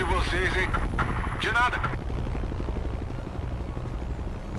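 Helicopter in the Call of Duty Cold War video game, Portuguese-dubbed version, a steady low rotor drone with a rapid throbbing chop running throughout, fairly loud, with someone speaking over it at the start.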